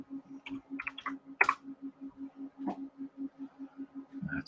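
A stock ticker is keyed in on a computer keyboard: a handful of quick, light key clicks close by over a steady, pulsing background hum, with no talking.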